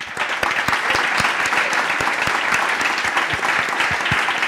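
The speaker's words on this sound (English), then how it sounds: "Big applause for Timo." Applause for a startup founder at a Startup Grind event in Barcelona, a full steady burst of many hands clapping with distinct individual claps standing out, loud and continuous from start to finish.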